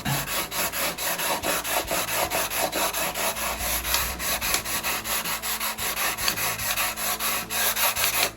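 Guitar frets on a custom Flying V being levelled with a tool worked back and forth across them, producing steady rhythmic rasping strokes, close and clear, with no talking.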